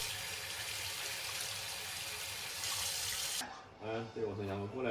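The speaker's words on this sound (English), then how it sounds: "I cleaned up the sink and got some warm water ready for our dog." Warm tap water pours steadily into a sink, a full hissing rush that cuts off near the end as a voice starts speaking.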